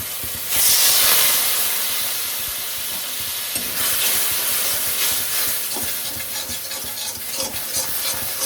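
Spices with turmeric, coriander powder and Kashmiri chilli powder sautéing in a pan, a sudden loud hissing sizzle that settles into steady frying with intermittent stirring scrapes.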